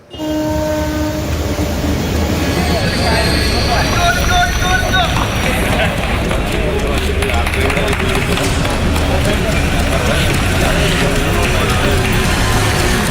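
An Executive train pulls into Kannur station at midnight with a loud, continuous rumble of wheels and carriages. Horn tones sound early on, and the noise stays heavy and sustained throughout.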